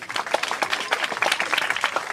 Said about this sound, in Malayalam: നിങ്ങളെല്ലാവരും തിരുമേനിക്ക് നല്ലൊരു കൈയടി കൊടുത്തായിട്ട്